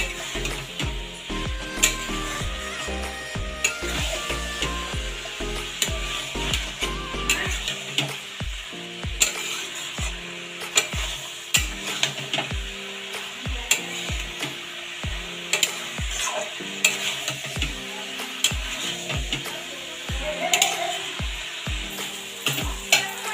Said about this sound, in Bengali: মটর দিয়ে 3-4 মিনিট কষিয়ে নেব।